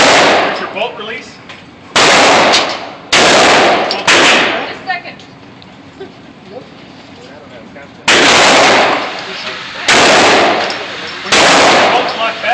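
Rifle shots at an outdoor shooting range, several loud, sharp reports spaced a second or two apart with ringing tails, separated by quieter stretches of faint voices.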